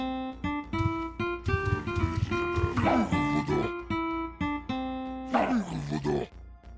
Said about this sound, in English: if you hear that in the background, that's just the puppy.